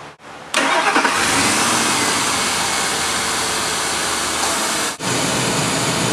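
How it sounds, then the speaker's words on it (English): A car engine cranks and catches with a sudden roar, then settles into a steady, loud running note with a brief dip partway through, close by and alone. "Now our engine is running"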